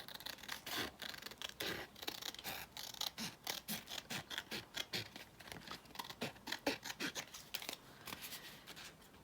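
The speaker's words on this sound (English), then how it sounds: "I'm gonna use my Tim Holtz scissors that are non-stick, because there's glue on some of these." Non-stick Tim Holtz scissors trimming glued junk-mail paper for an altered book, giving a steady run of close, crisp snipping and rasping cuts in irregular bursts, with no talking.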